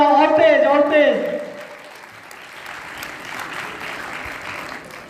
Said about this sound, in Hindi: तालियां रुकनी नहीं चाहिए, अभी लाइनें बढ़ जाएंगी हाथ की। बजाते रहो और तेज और तेज।